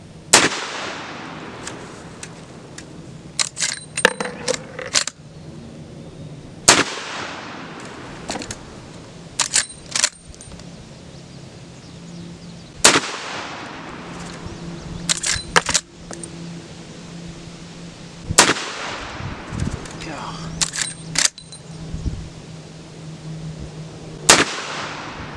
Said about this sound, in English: All 5 shots in that hole.